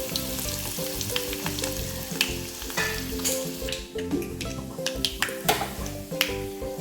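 Curry leaves crackle and sizzle in hot oil for a South Indian sambar tempering, following mustard seeds, red chillies and asafoetida, with sharp pops over a steady frying hiss and background music throughout.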